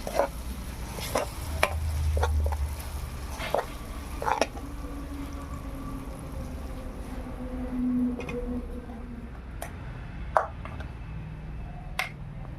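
Tempering for ripe red chili pickle sizzles in a pan, a soft steady hiss broken by scattered sharp pops and crackles, close by with no talking.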